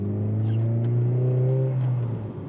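Modified Honda Civic FD2R with a naturally aspirated 2.0-litre K20A VTEC engine accelerating, a loud close steady engine drone rising smoothly in pitch over a few seconds, then easing off at the end.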